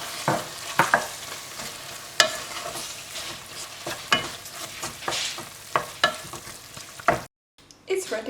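Tuna pasta sauce gets stirred in a pan, soft scraping strokes and clinks over a faint simmer, close and fairly quiet, with a brief silence near the end.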